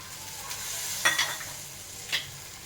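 Vegetables tipped into a hot pan and stirred for bhogi bhaji, a Maharashtrian mixed-vegetable dish with beans, peas, carrot and peanuts: a steady soft sizzle with a few brief scraping stirs, close and quiet, no talk.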